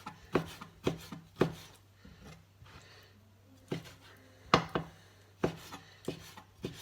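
A knife chops diced chuck steak from a butcher into small bits, giving irregular sharp knocks against a board with short pauses between bursts, close and clear with no talking.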